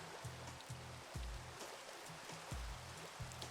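Steady rain hisses continuously in the Minecraft video game, a dense even wash of falling water with soft repeated low thumps beneath it.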